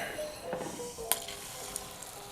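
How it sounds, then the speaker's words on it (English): Eggs frying in a pan for omurice give off a soft, steady sizzle, quiet and close, with a few light clinks of utensils against the pan. "Ooh, little sizzle, a little less sizzle than yours."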